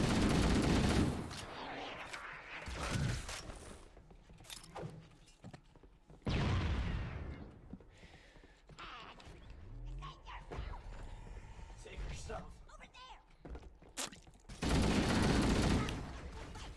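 Gunfire in the original Halo, played on Xbox: loud bursts of shots open and close the span, with scattered sharper impacts and shattering noises between quieter stretches of game sound.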